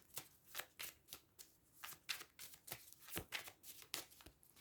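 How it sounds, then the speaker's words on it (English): Oracle cards being shuffled by hand, a quiet, close series of rapid riffling bursts in an uneven rhythm, about a dozen strokes with no talking. "I'm going to shuffle the cards"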